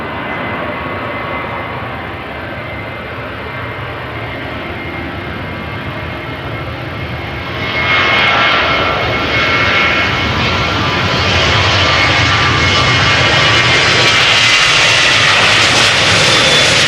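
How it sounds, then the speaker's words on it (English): A 13-year-old KLM Boeing 737-700 jet departs Amsterdam Schiphol for Ibiza, its engines a loud, steady roar close by that swells stronger partway through and holds, with no talk. "going to Ibiza 737-700, KLM flight 1553."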